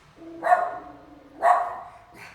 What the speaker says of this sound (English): I feel like she's gonna get a sore throat from all this barking.